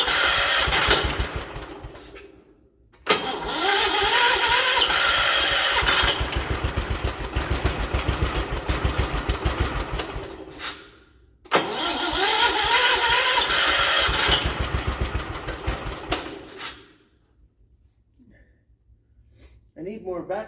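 A 1979 John Deere 216 lawn tractor engine runs in two loud, steady bursts of several seconds each, the idle throbbing low, separated by pauses as it cuts out, with talk around it.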